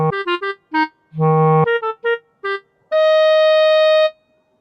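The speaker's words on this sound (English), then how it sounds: "This is the sound of the clarinet." Clarinet playing a brisk series of short notes, then a longer low tone, a few more quick notes and a final sustained high note held for over a second, clear and close, unaccompanied.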